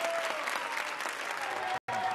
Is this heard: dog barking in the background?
no